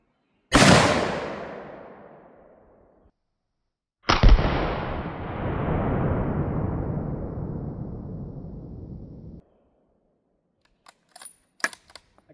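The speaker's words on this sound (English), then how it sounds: "So, that was my first 30-06 round." Two loud rifle shots from a .30-06 fired at 3D printed body armor, each a sharp close blast with a long decaying echo, spaced about three and a half seconds apart, followed by faint clicks and handling noises.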